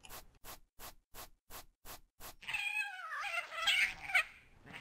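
In the video game The Hanged Man, seven short, evenly spaced taps or thumps, then a drawn-out, wavering cat meow with gritty noise, fairly loud and close, no talking.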